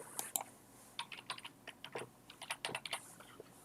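Keys clatter on a computer keyboard as a UPI ID is typed in during an online payment, a quick irregular run of light clicks close by with no talking.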